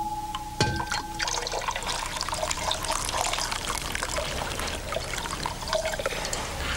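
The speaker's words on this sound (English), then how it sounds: "put the bottle into the bowl and, be careful, pour the hot water over it." Hot water poured from a container over a sealed bottle of coloured water sitting in a bowl, a steady close splashing pour running throughout with small clinks near the start.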